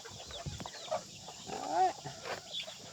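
Chickens in a coop with a loft cluck and chatter softly at a modest distance. Short, irregular calls rise over a low, steady background hum.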